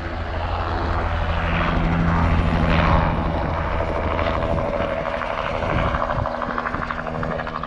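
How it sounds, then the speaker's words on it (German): A helicopter starts up beside a car park on Australia's Great Ocean Road, its loud, steady rotor and engine drone throbbing close by with a continuous pulsing beat. "Hier startet auch gerade der Helikopter."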